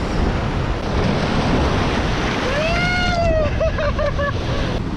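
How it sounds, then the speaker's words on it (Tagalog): Strong ocean surf at a Quezon Province shore, a loud, continuous roar of breaking waves with wind buffeting the microphone, joined midway by a brief rising whistle-like tone and a few short chirps. "Lakas ng alon dito, you know?"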